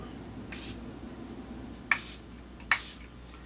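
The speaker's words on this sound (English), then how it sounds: "I'm going to take some setting spray" Three short bursts of makeup setting spray hiss from a nearby pump bottle, the first one brief and the last two quickly following each other.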